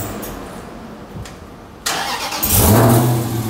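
A car that is not a Hellcat cranks and fires up near the mic, a short starter whir followed by a sudden roar and a rising rev, then settling into a loud, steady engine note.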